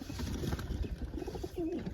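A pigeon coos in low, soft, throaty notes, most clearly near the end, over a steady rustling background at close range.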